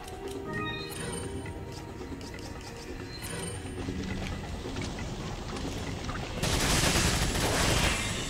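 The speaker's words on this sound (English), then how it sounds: "How many fucking times do I have to shoot that thing?" Gunfire aimed at an enemy in Resident Evil 4's Assignment Ada mode, with repeated shots over a busy, noisy backdrop that swells into a loud broadband rush near the end.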